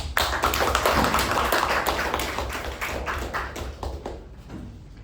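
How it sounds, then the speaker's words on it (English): Audience at a Toastmasters club meeting giving a round of applause, steady close clapping that holds for a few seconds then gradually tapers off. "help me welcome Toastmaster Mamatha with a huge round of applause"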